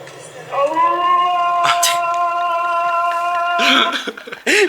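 A single drawn-out meow, clear and tonal, lasting a few seconds, followed by a short cough-like sound and some handling noise.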